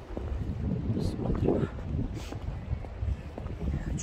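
Strong wind buffets the microphone on a seaside embankment in Novorossiysk, a steady low roar running the whole time under a few quiet spoken words.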